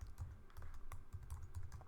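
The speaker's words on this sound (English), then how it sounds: "I'm going to go ahead and type in import" Someone types quickly on a computer keyboard while coding in Java. The clicks come as a steady, close, soft patter of rapid keystrokes with no speech.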